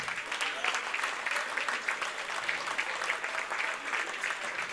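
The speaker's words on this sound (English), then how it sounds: "One more big round of applause for these seniors" Steady applause from a crowd honoring graduating seniors, dense clapping holding at an even level throughout without a break.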